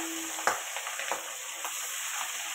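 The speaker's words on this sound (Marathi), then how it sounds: "तेल गरम झालंय, मच्छी टाकून घेते आता." Fish frying in hot oil in a home kitchen, with a steady close sizzle and a few sharp splutters as pieces hit the pan, heard alone without talk.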